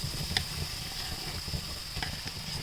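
Ginger-garlic paste with cumin sizzles quietly in a pan as a spoon stirs it, with soft, steady frying and a few scraping strokes close by.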